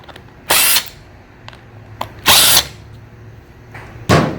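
A power drill removes screws from the seat of a 2018 BMW S1000RR motorcycle in short whirring bursts, three main runs of under half a second each, close up, with small clicks and handling noises between.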